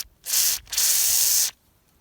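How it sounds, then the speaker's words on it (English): WD-40 sprays in two loud, close hissing bursts into a dirty oil channel of a Husqvarna chainsaw's worm gear housing. The first burst is short and the second lasts about a second, then both stop abruptly. "blast with some WD-40, clears it out, and should work"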